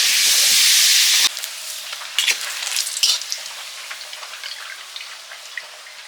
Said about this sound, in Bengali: পাঁপড়গুলো এবার ভেজে নিচ্ছি